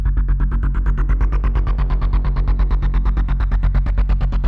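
Thick layered synth tones pulse in a steady, rapid rhythm, with sustained low notes beneath bright throbbing chords, loud and continuous without any talking.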